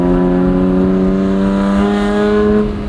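A track-prepped 2005 BMW E46 M3 Competition with an SMG gearbox revs hard and loud up close, its engine note rising through the gears with sharp throttle blips on the shifts.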